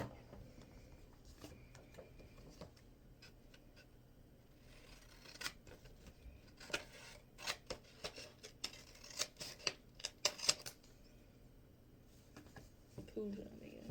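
Scissors snip across the top edge of a paper bingo card, a run of sharp crisp cuts that grows busier and louder midway, with some quiet rustling between.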